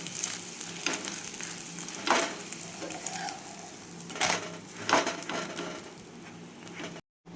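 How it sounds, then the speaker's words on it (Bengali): Egg frying on a hot tawa for an egg roll, a steady close sizzle with several louder crackling bursts and scraping stirs, no voices. "আমি খুব ভালোভাবে দুটো পিঠ উল্টে পাল্টে ভেজে দেব"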